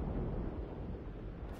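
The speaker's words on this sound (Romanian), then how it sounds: "se multiplică explozia sau ce naiba?" Deep rumbling explosion in the game Just Cause 3 multiplayer, a loud sustained low boom with crackling debris that fades slightly over a second and a half.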